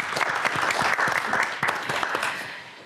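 Dense, steady audience applause at an evening concert in Belarus, with many hands clapping together at a constant loud level that eases off slightly toward the end.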